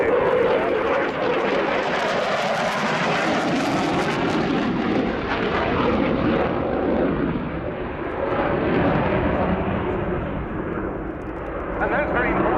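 A Royal Air Force Eurofighter Typhoon FGR4 jet roars through its flying display at the RIAT 2017 airshow, a loud, broad, continuous rumble that swells and ebbs as it passes.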